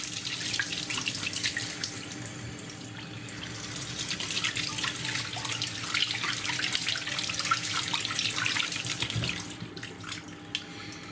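Cold tap water runs steadily over wheat grains in a strainer at a sink, a continuous close hiss and splatter with no talk.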